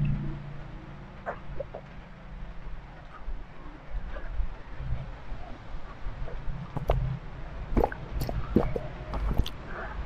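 During a diet-themed mukbang, close-up sips and gulps of water come with small wet drips and squishy mouth sounds, quiet and irregular, busier toward the end.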